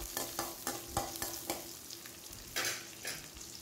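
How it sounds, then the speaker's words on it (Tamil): Small onions (150 g) sautéing in a pan for onion sambar, a steady sizzle broken by repeated scrapes and stirring strokes of a spoon, close and moderately loud with no talk. "வெங்காயம் நல்லா வதங்கட்டும்"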